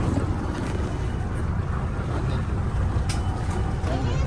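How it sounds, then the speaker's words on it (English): Speedboat ride to Mafushi in the Maldives, a dense roaring rush of engine, hull and wind buffeting across the microphone, loud and continuous. "The next day we took a speedboat to Mafushi, to our second stop, as planned."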